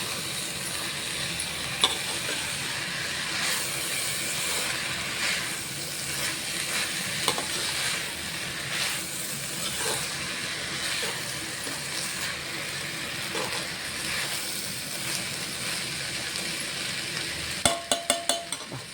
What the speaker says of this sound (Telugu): బియ్యం కొంచెం వేగిన తర్వాత పాలు పోస్తుంది.